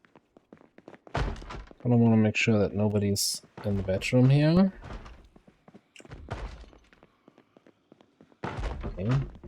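Zombies in Project Zomboid thumping on a bedroom door, heavy dull knocks recurring in irregular clusters beneath a man's speech.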